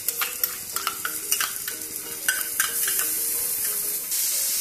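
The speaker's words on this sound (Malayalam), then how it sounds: "നമ്മളിപ്പോൾ അതും കൂടെ ഇട്ട് നല്ല രീതിയിലൊന്ന് ഇളക്കി നല്ല രീതിയിൽ റോസ്റ്റ് ആയിട്ടുണ്ട്" Ground ginger, garlic and green chilli paste is stirred and roasted in a pan for a raw jackfruit biryani, with a steady sizzle and a run of distinct scraping strokes that give way to a louder, continuous hiss near the end.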